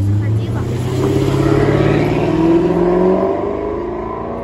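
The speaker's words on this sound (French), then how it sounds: "Oh le V8, j'entends un petit bruit sympa là." A V8 car drives past on a Monaco street, its deep engine rumble swelling and rising in pitch as it goes by, loud and close, with someone talking over it.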